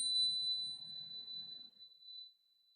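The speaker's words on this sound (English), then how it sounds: "We'll play chimes." A single bright chime rings out clearly and then decays slowly, its pure high tone fading away over a couple of seconds into near silence.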